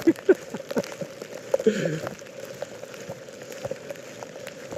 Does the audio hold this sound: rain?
yes